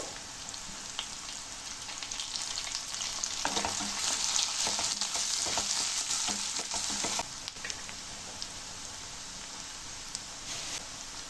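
Onions, tomatoes and curry leaves frying in a pan for drumstick gravy, a steady crackling sizzle with scattered stirring scrapes, louder in the middle stretch, with no one speaking.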